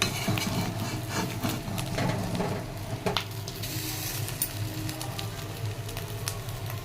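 Food frying in a small amount of oil in a pan, a steady close sizzle with crackling pops and occasional stirring clatter, running continuously without speech.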